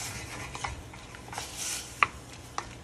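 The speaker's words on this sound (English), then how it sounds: "So give that a stir." A spoon stirs pear ginger chutney with sugar in a pan, making soft scraping and a couple of sharp clinks against the metal, close and fairly quiet with no talking.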